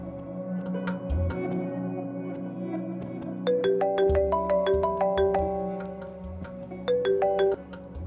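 A phone ringtone plays a bright repeating melodic pattern in two bursts, clear and fairly loud over soft background music in a Pakistani drama scene.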